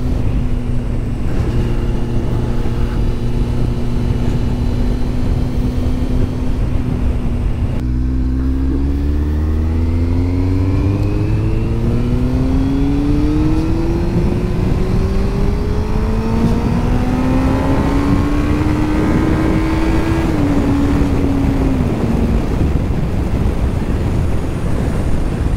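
A Kawasaki Z750R sport roadster motorcycle engine revs up and accelerates hard through the gears, its loud rising whine climbing in pitch as it pulls away steadily over a long continuous run.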